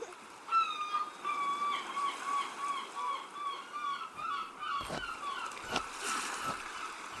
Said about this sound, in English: Seagulls fly overhead.